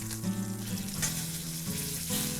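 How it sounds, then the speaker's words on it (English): Pork chops searing in olive oil in a pan, a steady close crackling sizzle with bright spitting bursts throughout, with no talk over it. "Nice sear on it there."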